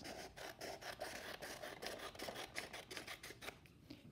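Scissors snipping off an excess piece of paper during a paper craft basket project, a quiet rhythmic run of short crisp cuts, close and faint with no talk.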